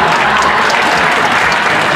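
Audience applause aboard the Showboat Branson Belle during a card trick show, a dense, steady patter of many hands clapping at once, loud and continuous throughout.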